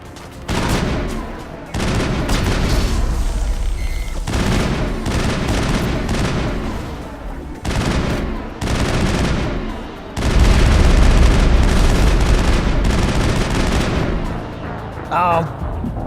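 Enemy gunfire in the video game Mass Effect, dense bursts of rapid shots and heavy booms coming in loud waves, with a voice talking between them.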